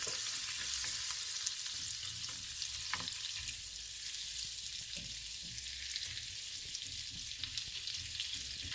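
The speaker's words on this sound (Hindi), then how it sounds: "इसमें बटर डालेंगे, इसको थोड़ा सा मेल्ट करेंगे" Butter melting and sizzling in a pan at the start of a honey garlic sauce, a steady dense frying hiss that runs throughout with a few faint stirring knocks.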